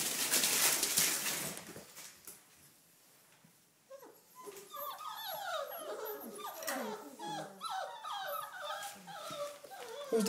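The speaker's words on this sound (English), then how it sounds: "Good doggies." Four-week-old red rust Doberman Pinscher puppies whimper and yelp in a rapid, overlapping chorus of high cries, close by, after a burst of rustling noise at the start.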